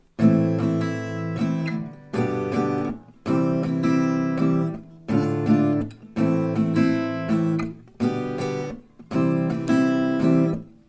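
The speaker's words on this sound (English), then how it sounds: "So it could sound like this for 6 rounds with strumming." Acoustic guitar strummed in repeated bursts, six chord phrases separated by short pauses, close and clear with no voices.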